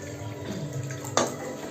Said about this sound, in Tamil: இப்போ நான் கொஞ்சம் தண்ணி ஊற்றிக்கலாம்.